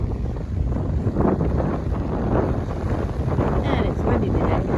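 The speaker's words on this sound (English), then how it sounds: "And it's windy today." Strong wind at Edisto Beach State Park at low tide buffets the microphone with steady, gusty rumbling that stays loud and close for the whole stretch.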